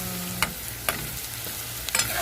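Garlic sizzling and frying in a pan while cooking beef curry, a steady close crackle broken by a few sharp stirring scrapes, with no talking.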